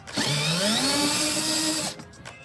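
A power driver fitted with a T27 Torx bit spins loudly and steadily for about two seconds while removing the pulse bar on a Polaris Ranger, then winds down, close and alone.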